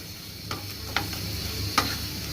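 Chicken coated in fried flour is stirred in a pan over a soft, continuous sizzle, with three brief scraping taps of the utensil against the pan.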